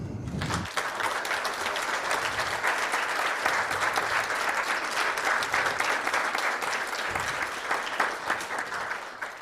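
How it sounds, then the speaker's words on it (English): A scholarship ceremony audience applauding donors: steady, full applause from many people that rises quickly after a brief opening sound and holds evenly at high level. "I want you to give a round of applause to our donors"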